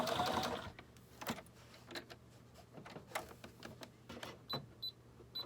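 A sewing machine stitching zigzag and straight lines on a quilted journal cover, close rapid mechanical chattering in short runs with pauses and small clicks between.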